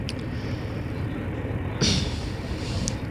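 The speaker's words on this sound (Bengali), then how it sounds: "এই সুন্দর লাগে ট্রেনটা যাচ্ছে চারদিক দিয়ে" A passenger train runs along with a steady, close rumble of wheels and carriage noise heard from aboard, with a brief louder rush partway through.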